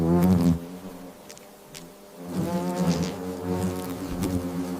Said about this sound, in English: The defensive buzz ripples across the nest as the paper wasps prepare to confront the massive spider.